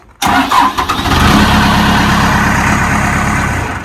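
A Duramax diesel engine fitted with a replacement cylinder head fires up and settles into a loud, steady rumbling idle close by, with no talking.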